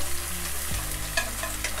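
Shallots and minced garlic sizzle in hot oil in a wok, with a steady frying hiss and a couple of sharp scrapes as a utensil stirs them, close and clear with no talk.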